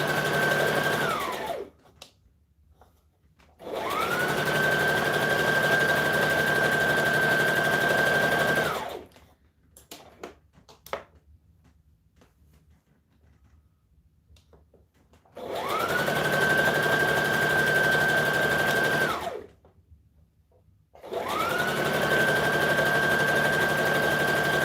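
A sewing machine hems the bottom of a garment, running in loud, steady bursts of whirring stitching separated by pauses filled with quieter handling clatter.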